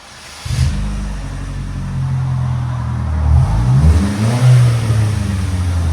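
A straight-piped 2011 Buick Regal CXL starts and idles with a deep, raspy exhaust rumble, then revs up twice, rising and falling loudly close by.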